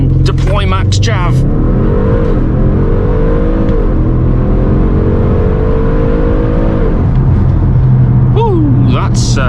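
An Audi RS6 with its silencer deleted revs hard in dynamic mode with traction control off, engine note climbing and holding at high revs for several seconds before dropping back, loud and close, with brief voices at start and end.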